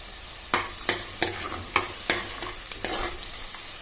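Onion, four crushed garlic cloves and peanuts frying in a pan for chikkudukaya curry, a steady sizzle broken by six or so sharp spatula scrapes against the pan, close and clear with no talk.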